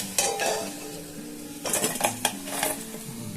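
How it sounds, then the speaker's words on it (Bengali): Cornflour-coated cauliflower fries in a pan, with a steady sizzle under clinks and scrapes of a utensil against the metal. A few sharp knocks rise above the frying. "এই ফুলকপি দেখুন এখন ভাজতে দিয়েছি"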